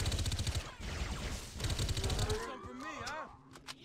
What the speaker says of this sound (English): these fucking Marines are shooting me in the back